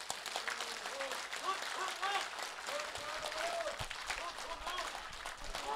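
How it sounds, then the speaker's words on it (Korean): A crowd claps at a political rally for Seo Chung-won in Dobong, the applause steady and moderately close while someone speaks over it. "뜨거운 격려의 박수를 다시 한 번 더 부탁해 올리겠습니다"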